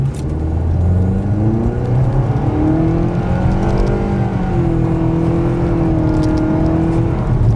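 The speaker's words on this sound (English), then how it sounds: "let's see how quickly we can get our new 2026 Nissan Kicks here up to speed" A 2026 Nissan Kicks with a CVT accelerates hard from a stop, its engine droning loud and steady as the pitch climbs smoothly and holds at a flat whine, recorded inside the car with no talking.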